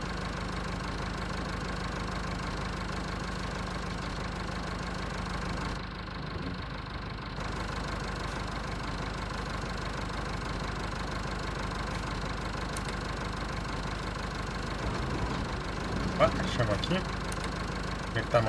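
A farm tractor engine idles in a field at planting time, a steady, close mechanical drone that holds unbroken from start to finish.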